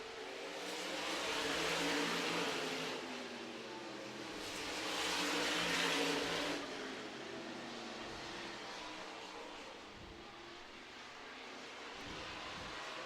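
Modified race cars come off turn four at Franklin County Speedway in Virginia, their engines swelling into two distant, roaring pass-bys over a steady background drone, with no talking.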